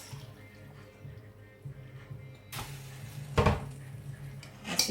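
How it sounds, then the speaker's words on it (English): Chicken stock with thyme and onion strained through a sieve into a pot of washed rice: a quiet opening, then a splashing pour and a clatter of metal near the end. "Then I just turn the stock through the sieve"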